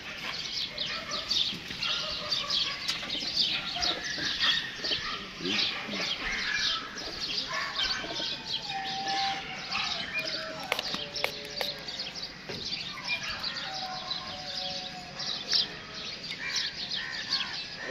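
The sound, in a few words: pigeons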